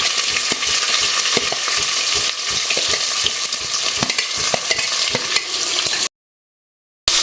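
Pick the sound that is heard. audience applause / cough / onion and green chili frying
onion and green chili frying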